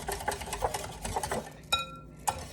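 Hand whisking of a dessert mixture, a quick rhythmic scratchy clatter of the whisk against the bowl that stops briefly and then resumes, close by.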